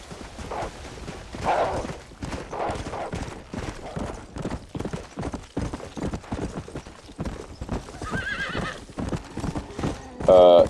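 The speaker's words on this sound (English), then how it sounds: "You can see I got this horse." A horse in the Red Dead Redemption video game, the Pestilence mount of the horsemen of the apocalypse, clip-clops steadily and neighs, its hoofbeats running throughout with a sharp whinny near the end.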